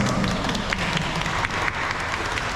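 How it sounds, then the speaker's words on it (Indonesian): Applause for the groom Sam at his wedding ceremony, a steady wash of many hands clapping together throughout, moderately loud and filling the room. "Tepuk tangan buat Sam."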